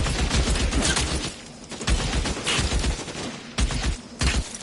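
Shootout gunfire in L.A. Noire, dense fusillades and rapid automatic bursts close and loud, easing briefly before more volleys, with little talk.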